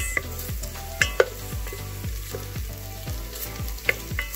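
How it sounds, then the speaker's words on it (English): Garlic being stirred into shrimp frying in a pan: a close, steady sizzle with a spatula scraping in regular strokes roughly twice a second and a few sharper clinks against the pan, with no talking. "I'm going to just mix in the garlic like this"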